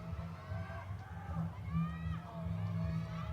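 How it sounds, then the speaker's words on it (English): A New Japan Pro-Wrestling arena crowd roars in a steady, swelling wash of cheers and shouts, heard from a distance under a commentator's voice. "The crowd's heavy into it now."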